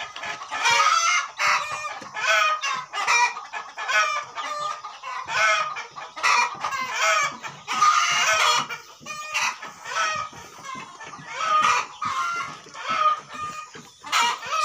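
Black chickens and chicks cluck and chatter continuously at close range on a poultry farm, dense overlapping calls with occasional crowing-like bursts.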